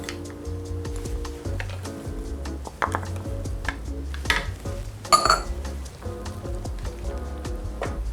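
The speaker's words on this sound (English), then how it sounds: "I'm gonna add my frozen peas." Frozen peas tumble into a pot of hot turkey pot pie filling as a patter of small light clicks and taps, followed by spoon scrapes and clinks against the pot, close and fairly quiet, with no voices.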